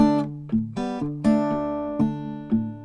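Fingerstyle blues groove on acoustic guitar in dropped D, with thumpy palm-muted bass notes and plucked chord pinches in a steady rhythm, close and clear with no talking.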